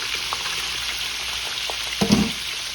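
Shrimp fry in hot oil and are shuffled around the pan, giving a steady close sizzle with a few soft scraping knocks toward the end.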